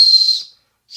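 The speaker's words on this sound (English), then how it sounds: "Here's a whistle." A small plastic whistle from a survival kit blown in two short, loud, shrill blasts, the first longer and the second cut off.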